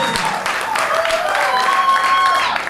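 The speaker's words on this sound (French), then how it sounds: "on aimerait déjà vous applaudir et que vous applaudissiez vous-même" Concert audience applauding at the opening of an art event in Douala, a steady wash of clapping with some bright whistling or cheering tones running through it.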